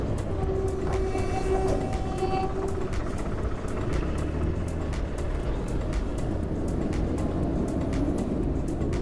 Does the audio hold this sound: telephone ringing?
no